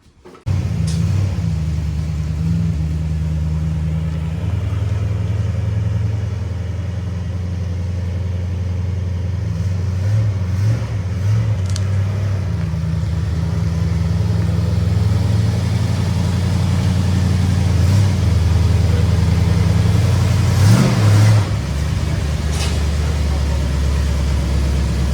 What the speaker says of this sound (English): bring the TR8 in and see if that fits under here